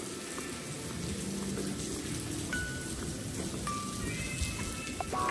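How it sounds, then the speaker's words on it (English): Steady rain pours down on a Costa del Sol street in Benalmadena, a dense, constant hiss of drops pattering on surfaces, growing heavier with a few sharper nearby splashes, and no one speaking. "I thought the rain was stopping then for a minute. It suddenly got harder again."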